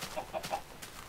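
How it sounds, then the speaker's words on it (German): A Minecraft chicken gives three quick, soft clucks in a short burst, faint and close, with no talking over them. "Da ist ein Huhn."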